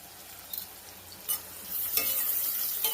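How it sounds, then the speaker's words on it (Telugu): Onions fry in a pan with green chillies, a close, continuous sizzle broken by a few brief scrapes of stirring, with no voices. "ఆనియన్ ఫ్రై అవుతున్నాయి"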